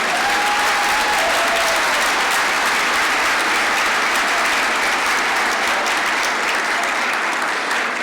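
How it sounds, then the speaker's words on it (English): A large crowd applauds continuously for a class of honorees at an awards event, loud and evenly sustained, with no voices standing out. "Please give them a big round of applause."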